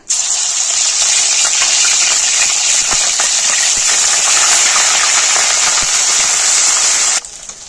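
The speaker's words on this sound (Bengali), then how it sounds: "গরম ঘিয়ের মধ্যে দিয়ে দেব আদা রসুন বাটা" Ginger-garlic paste frying in hot ghee for a Kolkata-style chicken chaap, a loud, continuous close-up sizzle with bright hissing and occasional pops, no speech.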